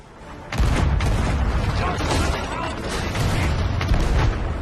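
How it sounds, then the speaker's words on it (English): A cannon fires in the pirate video game Sea of Thieves, a sudden heavy boom followed by a dense, roaring wash of noise that stays loud until the end. "A player fires a cannon at Davy Jones's galleon."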